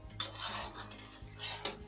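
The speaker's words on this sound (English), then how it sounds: "Stir well." Spoon scraping and stirring thick chicken bharta gravy in a metal pan, a steady close rubbing with occasional sharper clinks against the pan, no talking.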